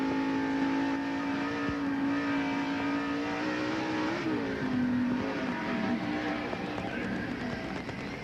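Engine of a NASCAR stock car, heard from inside the cockpit at the 1990 Budweiser 500, droning loud and close, then sagging in pitch midway as the car decelerates coming off turn two.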